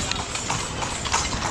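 Horse hooves clip-clop steadily on the street while pulling a calesh carriage in Edfu, the rhythmic clopping close and continuous over background street noise.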